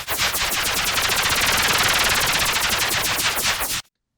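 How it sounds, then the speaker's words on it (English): Electrical charge-up sound effect designed for the Apex Legends Sentinel weapon, a dense buzzing burst with rapid pulsing that runs loud and steady for nearly four seconds, then cuts off abruptly into silence. "it made this cool sort of charge up sound"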